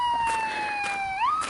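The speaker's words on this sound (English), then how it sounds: "it's only an ambulance." An ambulance siren wails along a trail before sunrise, a single loud, close tone sliding slowly downward and then sweeping back up.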